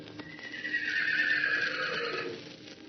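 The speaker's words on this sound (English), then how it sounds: "he lifted up his voice and called to them, the long, bugling neigh of his kindred" A horse gives a long, loud, bugling whinny that rises and trails off, with faint hoof clatter in the background, on an old-time radio drama.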